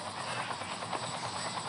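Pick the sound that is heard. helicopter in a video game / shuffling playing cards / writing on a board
helicopter in a video game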